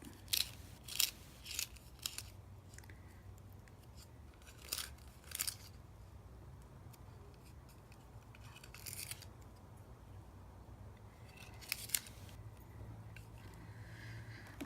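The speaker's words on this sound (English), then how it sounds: "Let's see if I've got a pencil sharpener." A pencil is turned in a handheld pencil sharpener, giving short crisp scraping bursts at irregular intervals, some in quick pairs, separated by quiet pauses in a calm room.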